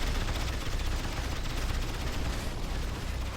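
Sustained automatic gunfire and explosions in the Rise of the Reds real-time strategy game, with dense, continuous loud bursts tearing into a unit, no pauses throughout.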